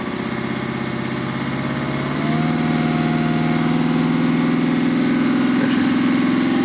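A Mercedes engine, under repair on its injection regulation valve, runs steadily at a loud, close idle, its rough hum rising slightly partway through and then holding even, with no voices.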